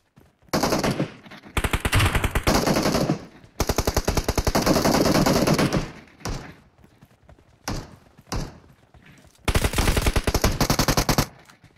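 Automatic gunfire in the mobile battle-royale game PUBG Mobile, loud sustained bursts of rapid shots separated by short pauses, with a few brief isolated reports between bursts; no talk over it.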